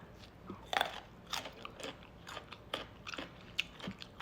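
Fresh raw beetroot crunched and chewed up close, with sharp wet crunches and irregular chewing bites spread across a few seconds, quiet and without talking.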